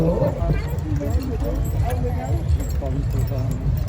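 Horses' hooves clip-clop in a steam rally parade at Shrewsbury, a steady patter under continuous crowd chatter and nearby talking.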